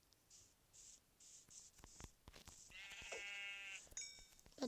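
Sheep in the Minecraft video game bleat in a short run of harmonic, wavering calls, moderately close, with faint clicks and game noises around them and no talk.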